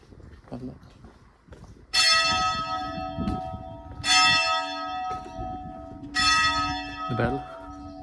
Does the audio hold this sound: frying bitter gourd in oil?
no